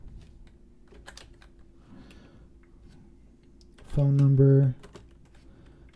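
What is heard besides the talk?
typing on a computer keyboard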